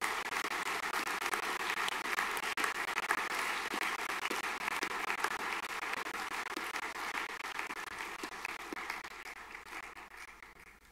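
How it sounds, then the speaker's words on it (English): A school audience claps steadily for new staff at a 2021 welcome ceremony, dense sustained applause from many hands that thins slightly toward the end. "can I please have a round of applause to all the new staff joining the team in 2021"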